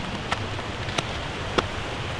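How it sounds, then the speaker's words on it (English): Rain falling steadily outdoors in wind, a continuous soft hiss with a few sharper drop ticks standing out, moderately loud and without talk. "It's started to rain."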